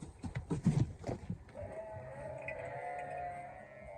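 Sheep and lambs on a farm, several loud close bleats in quick succession, then a single long, wavering bleat over quiet barnyard background.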